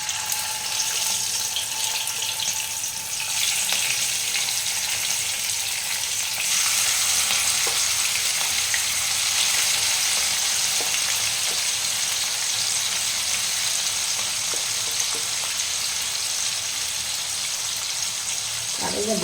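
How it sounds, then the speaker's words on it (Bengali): Prawns fry in hot mustard oil in a wok, a bright, steady sizzle that swells as they go in, with occasional stirring clinks and some talk. "এরপর আমি মাছটা এক এক করে ছেড়ে দেবো ভাজার জন্য"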